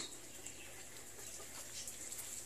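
Faint chicken clucks come through a steady hiss of outdoor noise, distant and low in volume.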